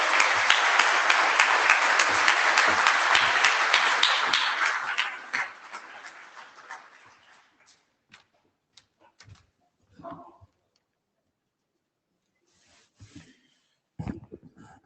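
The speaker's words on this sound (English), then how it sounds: "But maybe one more round of applause for David Clark." Audience applause fills a plenary session hall at the IETF 124 meeting, a dense sustained clapping that tapers off over several seconds into near silence with a few scattered knocks and rustles.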